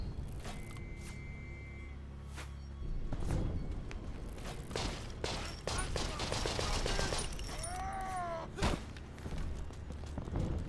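Turret gunfire in the video game Conscript breaks out in bursts of sharp shots mixed with mechanical clatter and game sounds.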